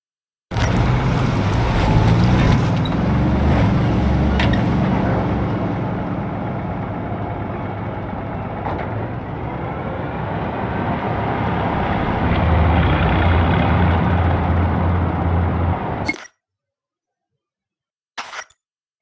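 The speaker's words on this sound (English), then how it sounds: "I'm just going to drive the vehicle now" A vintage Weimaraner W3 car in Just Cause 3 drives with a steady, loud engine drone and rumbling road noise that rises and falls for about fifteen seconds, then cuts off, followed by a couple of brief clunks.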